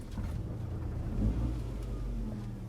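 A car in driving practice, shifted into reverse after both mirrors are checked, runs with a steady low engine rumble, close and continuous, with a slight swell midway and no talk.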